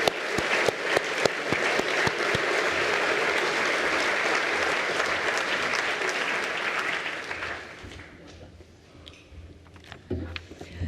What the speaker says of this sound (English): we should give a big round of applause to our fearless leader, Lori, for her amazing leadership of CED.